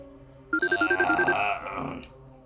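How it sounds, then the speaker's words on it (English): A phone ringtone starts abruptly, a rapid pulsing electronic trill repeating about ten times, loud and close, then fading into muffled noise. "the god-awful ringtone of his mobile"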